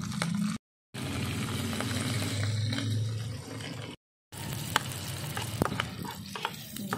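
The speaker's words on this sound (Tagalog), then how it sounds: "Gisang, sibuyas, bawang, at saka luya." Onion, garlic and ginger sautéing in a pan for a dried-fish dish, a steady close sizzle broken by two brief gaps, with light clatter of stirring near the end.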